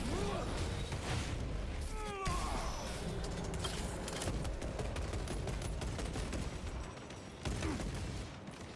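Dense bursts of rapid gunfire and crashing impacts from ranged enemies in the Warhammer 40k Space Marine 2 video game, continuous and loud through a chaotic battle with layered booms.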